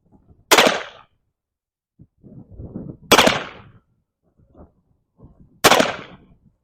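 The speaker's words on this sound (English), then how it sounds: "see how we can shoot this Spiller Burr by Pieta" Three loud, sharp gunshots from a Pietta Spiller & Burr M1861 percussion revolver at an outdoor range, evenly spaced about two and a half seconds apart, with faint rustling and handling noise between shots.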